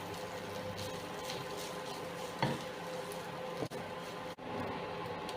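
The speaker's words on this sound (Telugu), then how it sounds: "కొంచెం మసాలా పౌడర్ వేసుకుని ఇదంతా రైస్కి పట్టేలాగా కలిపేసుకోవాలి" Masala powder being stirred into egg rice in a pan, a steady soft scraping and shuffling of rice against the pan with a couple of sharper knocks, close and quiet, with no voices.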